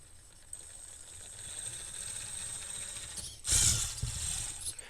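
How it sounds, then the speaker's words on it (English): An RC crawler's all-wheel-drive transmission in an Axial UTB18 Capra 4WS with overdrive front gears gives a steady high mechanical whir, swelling into a louder gear rattle briefly near the end. "RC all-wheel drive transmission, it's a noisy thing"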